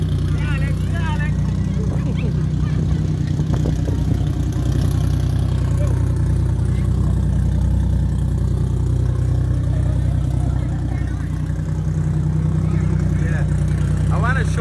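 A Lamborghini engine idles with a steady low rumble throughout, nearby and continuous, while people talk over it at times.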